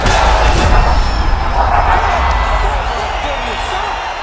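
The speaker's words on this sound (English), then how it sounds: "Crowd absolutely loving it." Roaring crowd cheers a knockout in the video game EA Sports UFC 5, a loud, sustained arena swell under a commentator talking throughout.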